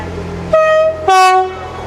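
A departing Northern class 158 train sounds its two-tone horn, one loud note and then a second, each held about half a second over a low engine rumble.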